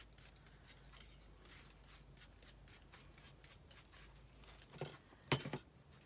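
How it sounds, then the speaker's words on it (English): Scissors snip faintly through a Mod Podge-coated craft piece, a few quiet cuts and rustles followed by two louder snips near the end. "And then we will cut this out."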